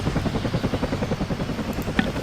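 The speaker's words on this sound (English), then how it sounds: "I do believe we have a Cobra attack helicopter that we purchased." Cobra attack helicopter in the video game Vietnam 65, its rotor thumping in a fast, steady rhythmic chop, loud and close, with a brief sharp click near the end.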